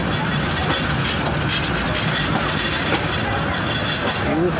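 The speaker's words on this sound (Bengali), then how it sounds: "মানিকখালী রেল স্টেশনে প্রবেশ করলো" The Kishoreganj Express, a Kishoreganj-to-Dhaka passenger train, rolls into Manikkhali station with a loud, steady rumble of wheels and carriages, continuous and close, with no talk.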